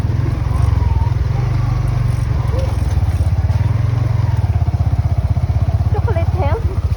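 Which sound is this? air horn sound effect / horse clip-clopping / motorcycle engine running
motorcycle engine running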